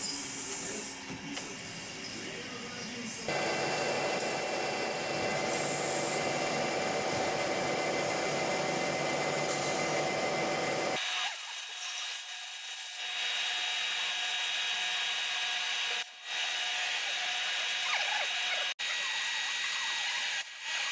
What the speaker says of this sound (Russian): Последний штрих на этой стороне — это выравнивание поверхности прилегания постели распредвалов.